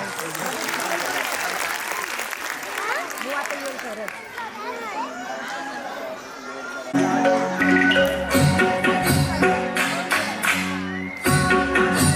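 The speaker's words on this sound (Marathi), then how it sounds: "जोरदार टाळ्यांचा गजरा" Loud applause breaks out from the audience at a school annual function, a sustained crowd clapping with some cheering, followed by music starting up for a student performance.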